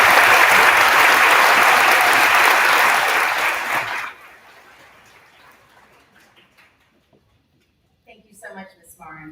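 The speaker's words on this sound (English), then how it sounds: "let's give him a round of applause." A school audience at an elementary promotion ceremony claps loudly for about four seconds. The applause fades to quiet, and faint voices follow.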